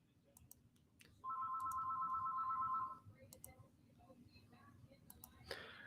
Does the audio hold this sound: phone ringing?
yes